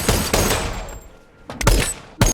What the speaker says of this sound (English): He and the workman then trade bullets